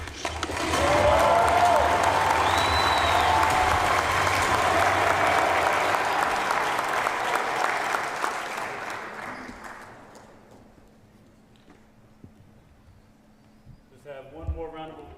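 Audience applause for NBA Rookie of the Year Stephon Castle of the San Antonio Spurs: a loud, dense clapping crowd sustained for about eight seconds, then fading to near quiet, with a brief voice near the end.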